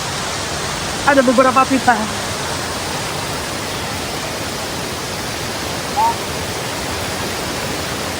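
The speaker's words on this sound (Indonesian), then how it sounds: "Ini kita tunjukin air terjunnya." Waterfall at Bedengan campsite in Malang, a loud, continuous rushing roar of falling water filling the whole scene, with someone briefly speaking over it.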